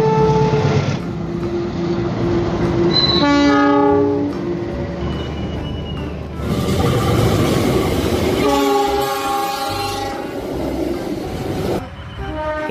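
A locomotive sounds its horn in several long, loud blasts while the train rumbles past, with steady rolling rail noise between and under the horn calls.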